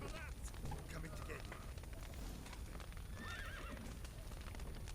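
Horses whinny from the Witcher 3 video game, briefly and faintly inside a dense bed of game noise, crackling fire and hoofbeat-like clatter.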